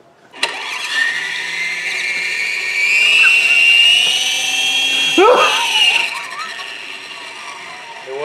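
A 66-inch RC helicopter's electric motor spins up into a loud, steady high-pitched whine that holds and rises in pitch, with a brief dip and a voice breaking in near the end.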